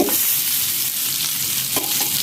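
Rava-coated bangude mackerel fries on a tava over a low flame, a steady hissing sizzle with a couple of brief scraping touches, close and unbroken, with nobody speaking.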